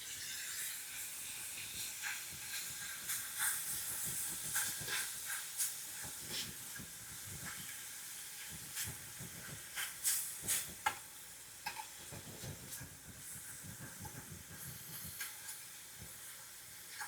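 A fork mashes cooked ground meat in a pan over low heat while it sizzles steadily, with repeated scraping and pressing strokes coming in uneven bursts and no talking.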